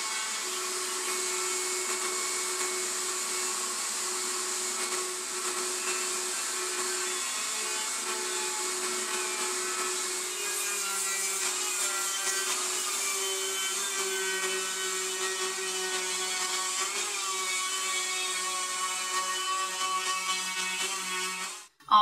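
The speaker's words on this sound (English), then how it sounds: "I'm going to put a 3/8 inch round over on the top side of this" Wood router cutting a 3/8 inch round-over along the top edge of a wooden stool seat, a steady high whine with a ragged cutting noise running close and unbroken, with no talk.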